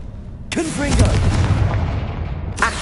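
A Confringo fire blast spell goes off in Hogwarts Legacy on PS5, a sudden loud broadband burst that roars and rumbles for about two seconds, with a second blast starting at the end.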